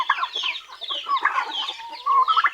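A flock of backyard hens and roosters clucks and chatters nearby, a busy overlapping mix of short squawks and murmuring calls with no one speaking.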